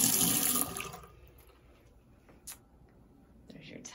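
Water gushes loudly from a bathroom faucet in a home with quartz countertops for under a second, then cuts off, leaving a quiet room with a few faint clicks.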